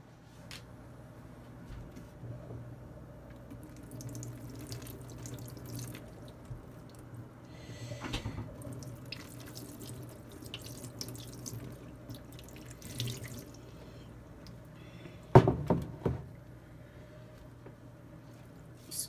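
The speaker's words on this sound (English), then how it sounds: "now I am just going to pour some cold water" Cold water pours from a tap into a sink in a steady, moderately faint stream, with a few splashes and drips and one sharper clatter near the end.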